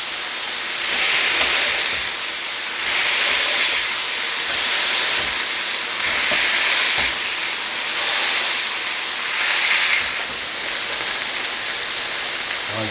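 Onions for an Oklahoma fried onion burger sizzle loudly on a hot griddle as they are pressed flat, a continuous close hiss that swells and eases in slow waves with a few faint knocks.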